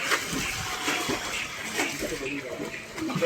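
Water splashes steadily as people swim at Digha, a loose, busy wash of splatter heard nearby with voices mixed in throughout.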